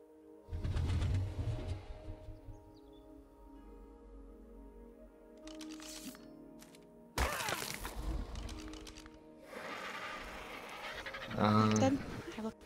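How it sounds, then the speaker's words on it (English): A bird in the ARK video game coos in short bursts amid game sounds and shuffling noises, with people talking over parts of it. "Our bird is here."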